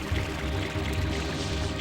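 In the Super Mario Sunshine video game, a water spray hits fire with a steady, hissing, pouring rush that holds evenly throughout, loud and close.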